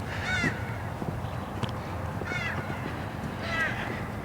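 Crows caw outdoors at an old Montana prison, three separate bursts of harsh calls spaced a second or so apart against steady background noise, with faint human sounds underneath.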